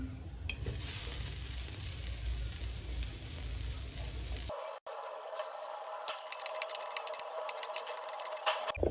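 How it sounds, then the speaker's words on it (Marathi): Loud, steady sizzling of onion masala frying on a hot griddle, briefly cutting out and returning as a thinner, crackling sizzle. "शेजारीच मी तवा तापायला ठेवलेला आहे तर त्यामध्ये मी टाकून घेते कांदा मसाला करण्यासाठी"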